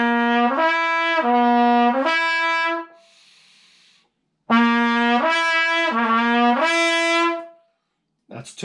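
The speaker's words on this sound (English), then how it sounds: "If you give it too much air, then it sounds like this." A trumpet overblown with too much air gives bright, harmonic-rich notes in short repeated phrases, with a breathy hiss in the gap between them, loud and close.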